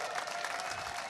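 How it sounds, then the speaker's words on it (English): An audience cheers and applauds in a short, even wash of clapping and crowd noise that holds steady and fairly faint from start to end. "you have a whole bunch of people here just cheering"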